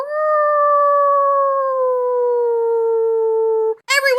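An actress imitates a wolf howl through her teeth, one long, loud, steady tonal howl that sinks slightly in pitch before breaking into a short yelping cry.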